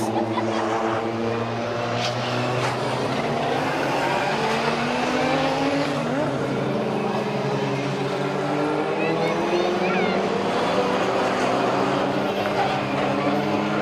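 Rallycross cars on the last lap, with four-wheel-drive and two-wheel-drive cars on the track. Engines drone steadily at a distance with a rising and falling whine, and a commentator talks over the noise.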